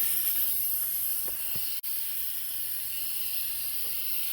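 Compressed air hisses steadily into a Humvee front brake caliper to push the piston out, a continuous close-up rush with one abrupt brief break partway through.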